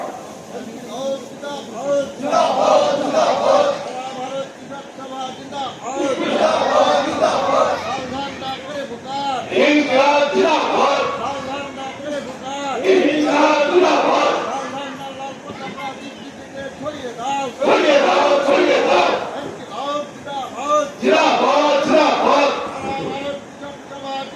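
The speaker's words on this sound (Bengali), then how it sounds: "সাজাম ভাই স্লোগান দেন। স্লোগান দাও।" Crowd at a farmers' association regional conference chanting slogans in repeated call-and-response waves, loud and close, with several surges of massed voices rising and falling over about twenty-four seconds amid general hubbub.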